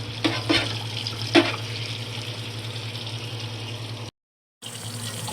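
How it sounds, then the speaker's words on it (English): Cassava being washed under a hot running kitchen tap, a steady close stream of water with a few louder splashes early on, then a brief break before the flow resumes. "Right now I'm going to wash it. So I'm putting it to the hot area so it can be able to wash good."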